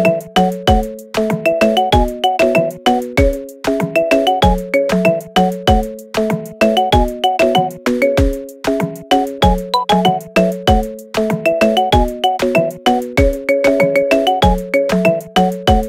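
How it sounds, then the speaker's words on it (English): A plinking marimba-like ringtone tune repeats in a bouncy, steady pattern, each note sharply struck and ringing briefly, loud and up close. "Set as your ringtone today."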